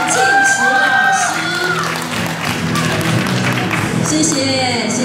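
An audience applauds award winners at a Taichung volunteer service team singing contest ceremony. Sustained clapping and crowd noise run throughout, with voices mixed in.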